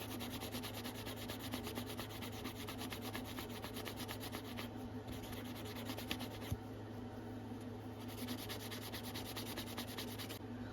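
Steady, continuous rubbing of fine 1,000-grit sandpaper on a vintage Case stockman pocketknife with stag handles, a dense even hiss with rhythmic back-and-forth strokes, close up and uninterrupted.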